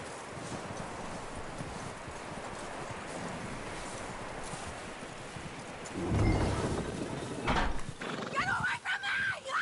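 A horse in Red Dead Redemption 2 neighs and snorts over hoof clops and a rumbling, rainy storm, loud and close, with a brief higher whinny near the end.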